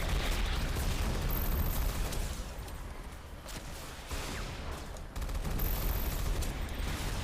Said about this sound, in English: The machine gun is so inaccurate that it doesn't do a ton of damage.